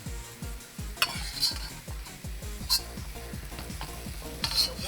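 Fresh broccoli florets and green pepper are stir-fried for pork lo mein, with a continuous sizzle and rhythmic scraping of a utensil against the pan, plus occasional sharp metallic clinks.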